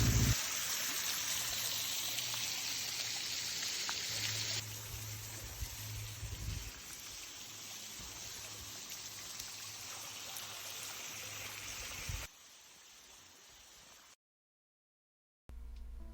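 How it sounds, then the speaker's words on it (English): A waterfall pours directly onto a beach, giving a steady broad rush of falling water that drops in level partway, then cuts out briefly near the end. "There's a waterfall falling directly onto the beach."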